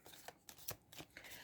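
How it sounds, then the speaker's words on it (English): A deck of Disney challenge cards is shuffled close up in quiet, quick riffling bursts, a few soft flicks and rustles over about a second and a half, with no talking. "So you're going to shuffle these cards"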